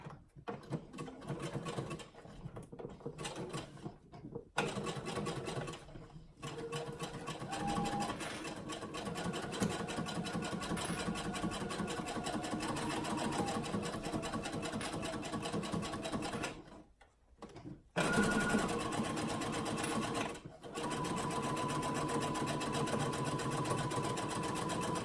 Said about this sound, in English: I'll go ahead and sew the other side.